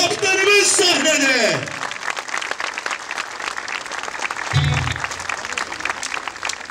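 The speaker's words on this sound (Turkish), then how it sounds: "Takım kaptanımız Yiğit Özel geliyor alkışlarınızla." A large crowd applauds as a champion team's captain comes on stage at a trophy celebration, a dense roar of clapping that runs continuously, with an announcer's voice and a brief low musical tone over it.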